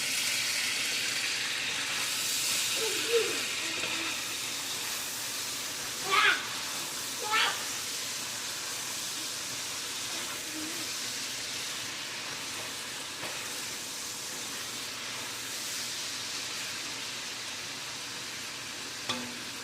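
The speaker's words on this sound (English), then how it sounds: "we're going to fry it with the oil first" Food frying in about half a cup of hot oil during home dinner cooking, a steady soft sizzle throughout with a few faint clatters of stirring, fairly quiet.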